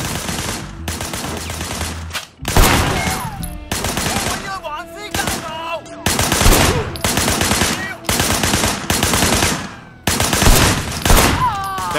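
Bursts of gunfire from Sleeping Dogs, fired at enemies during a car chase, come in several loud volleys with brief gaps between them over steady game sound and music.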